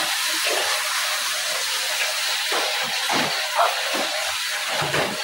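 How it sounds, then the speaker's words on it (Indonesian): Spices, chillies and oil sizzle and spatter in a pan while cooking jackfruit curry, a steady close hiss with small crackling pops throughout and no talk. "kita tumiskan bumbunya, bekas-bekas minyak, cabai segala macam, percikannya kemana-mana ya"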